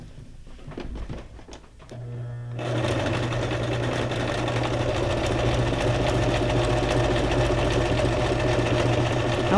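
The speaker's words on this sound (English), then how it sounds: "I was sewing crooked anyway." A sewing machine stitches paper for a junk journal. A few handling knocks come first, then the motor starts up and hums steadily in a fast, even whir close by.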